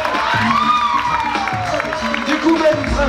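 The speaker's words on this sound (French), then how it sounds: "un tonnerre d'applaudissements pour" Comedy club audience bursting into applause and cheering for a performer, a dense wash of clapping and whoops kept steady and loud throughout, with tonal music or voices ringing over it.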